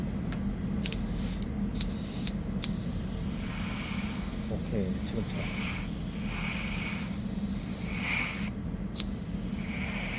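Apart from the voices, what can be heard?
airbrush spraying paint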